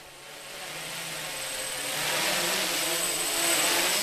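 A small homemade PVC-frame quadcopter at about three-quarter throttle gives a steady high buzzing whine of motors and propellers that slowly swells louder.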